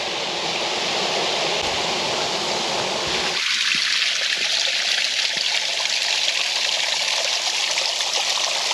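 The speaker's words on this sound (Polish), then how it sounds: "I za nami spektakularny, proszę Państwa, wodospad." A waterfall's loud, continuous rushing roar in the Karkonosze mountains on the way to Szrenica, steady throughout, its tone shifting slightly partway through.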